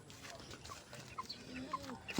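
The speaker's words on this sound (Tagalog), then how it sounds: "Ito nga palang manok natin." Faint chicken clucks come in scattered short bursts over a noisy outdoor background, with a few soft murmurs and rustles, near a pigeon trapdoor.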